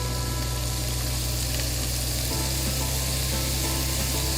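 Raisins and pine nuts hit a hot pan with a steady loud sizzle of frying, continuous and close, with no voices.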